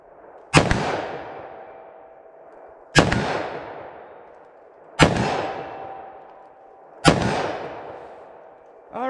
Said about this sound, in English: Let's try our 327 Federal Mag from 25 yards